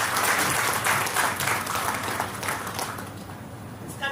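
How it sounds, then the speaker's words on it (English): A hall audience at an industry–academia conclave gives a final round of applause for panelists, dense steady clapping that gradually thins and fades near the end. "please join me to have a final round of applause for our distinguished panelists"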